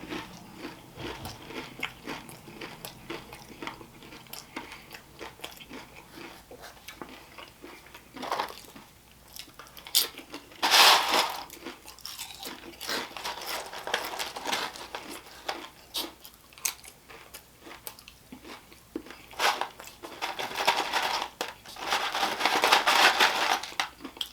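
Crunchy Taco Bell nachos with Fritos are bitten and chewed close up, with loud crisp crunching bursts scattered among quieter chewing and rustling, and no talking.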